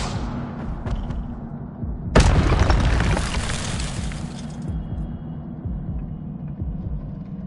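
An Incendio fire spell bursting in the Hogwarts Legacy video game: a sudden loud whooshing blast that roars for a couple of seconds, then fades into a low rumbling game background.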